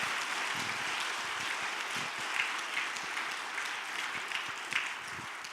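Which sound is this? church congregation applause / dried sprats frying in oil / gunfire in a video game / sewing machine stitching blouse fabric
church congregation applause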